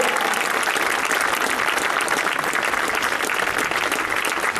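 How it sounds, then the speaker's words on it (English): Steady, dense crowd applause at Wisconsin Speedway during a motorsports event, continuous and fairly loud throughout, with no clear breaks. "one final time, a nice round of applause."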